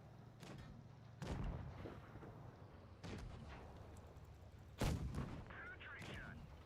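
Tank cannon fire in a video game, heard as several heavy booming shots spaced a second or two apart, each with a rumbling tail, loud and close over a quiet background.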